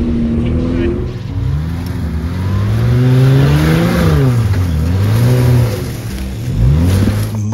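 A Jeep fitted with a Pypes exhaust revs loudly and close by, its deep engine note rising and falling in repeated sweeps throughout, with no talk over it.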